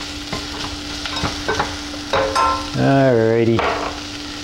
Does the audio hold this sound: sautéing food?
yes